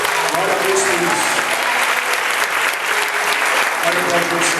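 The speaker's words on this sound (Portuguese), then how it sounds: "Pode aplaudir o Senhor" A church congregation applauding in worship, loud continuous clapping from a large crowd filling the room, with scattered voices and cheers beneath it.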